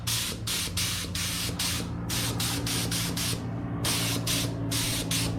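A paint spray gun hisses in steady bursts with short pauses as it applies a light coat to a Cobra Daytona car chassis; the spray sounds close and loud.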